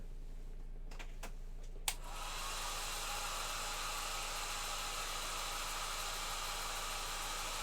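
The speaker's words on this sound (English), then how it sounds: "Just using my hair dryer." A hair dryer blowing to dry paint on a miniature clicks on after a few light taps and then roars steadily and loudly at close range. No one speaks.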